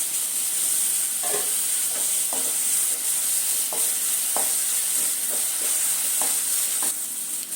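Small tomato frying in a pan with onions, a constant loud sizzle with periodic scraping strokes of stirring about every half second, close up and with no talking.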